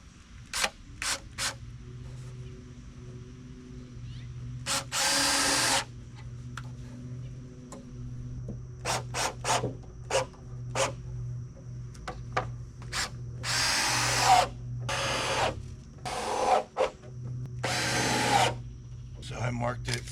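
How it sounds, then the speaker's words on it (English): A power drill drives screws into the end grain of a wood board in short repeated whirring bursts of a second or so, with quieter handling noises and a steady low hum between them. "You're really not supposed to screw into the end of a board like this"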